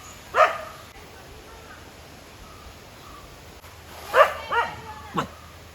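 A dog barks in a Kerala forest area, a single sharp bark early on and then a cluster of three barks near the end, moderately close against quiet outdoor ambience with faint crow-like calls.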